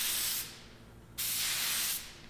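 A spray can or airbrush hisses while painting a Warthog flight-stick grip an aluminum metallic finish, in two bursts: a short one at the start, a pause, then a longer steady spray, close and fairly quiet.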